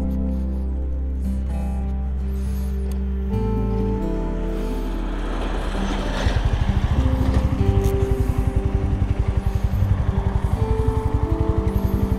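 A motorcycle rides over Mokra Gora with its engine throbbing in a fast, steady pulse that rises in from the middle and keeps going. Loud tonal music plays over it the whole time.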